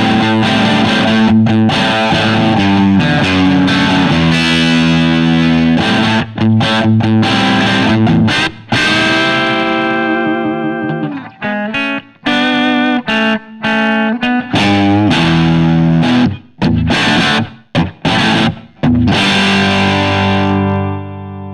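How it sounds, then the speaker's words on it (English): Gibson SG electric guitar played through a small ZT Lunchbox amp with volume and gain cranked, giving loud, heavily distorted chords and sustained notes that ring out, then choppier stabs and short bursts with brief gaps toward the end. "The SG with the volume and the gain cranked."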